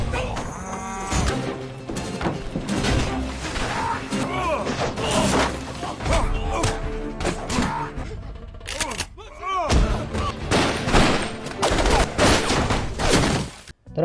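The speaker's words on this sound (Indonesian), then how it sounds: "Ia kemudian berlari masuk ke dalam sebuah bus untuk berlindung dari tembakan pasukan Hatcher" Gunfire in an action scene from the film The Rundown, with rapid sharp shots layered over loud cattle mooing and a dense, chaotic mix of crashes and movement throughout.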